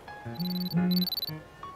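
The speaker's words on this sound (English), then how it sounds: "Your hunter's watch is beeping." A short electronic beeping pattern from a hunter's watch in the video game Love and Deepspace, steady tones pulsing in quick succession with a faint game-like chime, loud and close.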